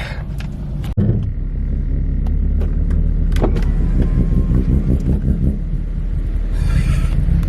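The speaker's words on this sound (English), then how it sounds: "those lifters are not happy" An old BMW engine idles close by with a busy rapid ticking from unhappy valve lifters riding over a low rumble, broken by a sharp knock near the start and scattered clicks throughout.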